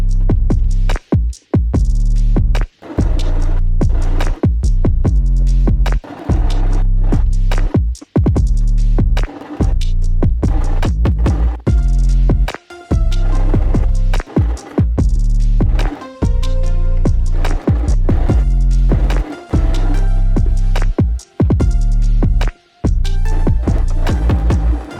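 Sewing machine running a zigzag stitch around the edge of a denim apron made from jeans, a steady loud mechanical throb in repeated bursts with short pauses between runs, no talking.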